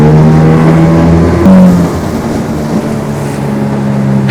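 An aluminium car-top motorboat driving flat out on the sea into a headwind, its engine a loud, steady close drone with a brief pitch shift partway through, no voices.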